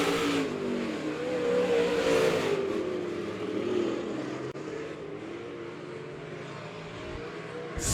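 Late model race cars roar around Monett Motor Speedway, engines revving and surging loud as they pass close by, then fading into a steadier distant drone.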